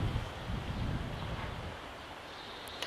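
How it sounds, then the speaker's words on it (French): Outdoor wind rumbles and buffets against a Rode VideoMic as nearby trees rustle. The whooshing noise is steady and continuous with a low, dense roar and no speech. "Donc là, on entend du vent et tout ça."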